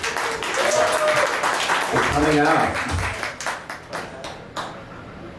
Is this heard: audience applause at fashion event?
yes